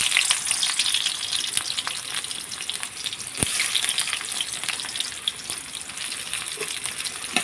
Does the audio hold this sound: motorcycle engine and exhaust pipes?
no